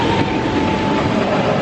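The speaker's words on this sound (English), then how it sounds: "7 Dwarfs Mine Train." Seven Dwarfs Mine Train roller coaster at Magic Kingdom, a loud steady rumble of coaster cars rolling along the track with a continuous rushing roar and faint rattling, no pauses.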